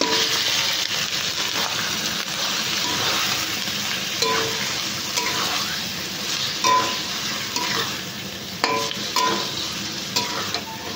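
Chicken pieces go into well-fried ground spice masala for palong chicken, a loud continuous sizzle close up, broken by repeated scraping stirs and light clinks of a utensil against the pan.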